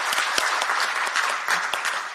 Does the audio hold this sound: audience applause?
yes